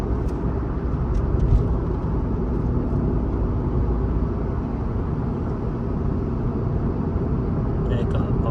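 Dense, continuous road rumble from many cars in traffic near a gas station, heard from inside a moving Honda City, with people talking over the drone.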